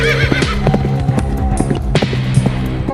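A frightened horse gallops with quick, steady hoofbeats and lets out a shrill whinny, close and loud.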